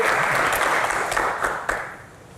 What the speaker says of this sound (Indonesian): Tepuk tangan dulu lah untuk kita ini.